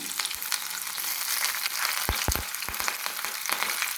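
Green chillies sizzle in hot oil in a pan with a dense, steady crackle, along with a few dull knocks of a spoon against the pan.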